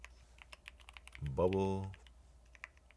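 Computer keyboard typing during a coding practice session: sparse, scattered key clicks throughout, briefly interrupted midway by a short spoken word.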